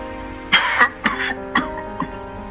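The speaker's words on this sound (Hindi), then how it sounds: "अचानक उसे किसी के खांसने की आवाज सुनाई दी" Several short coughs and throat-clearing sounds, close and fairly clear, coming in quick bursts with brief pauses between them.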